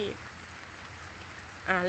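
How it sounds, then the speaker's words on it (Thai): Heavy rain pours steadily during a storm in Songkhla, Thailand, a constant wash of hiss filling the whole stretch, with a voice briefly audible at the start and end. "ฝนตกหนักมากเพื่อนๆตกทั้งวันทั้งคืนเลยค่ะ"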